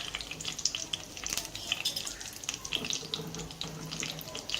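Coriander powder and curry leaves fry in oil for a village-style drumstick dish, a fine crackling sizzle that runs throughout beneath a faint watery background, quiet and close, with no speech.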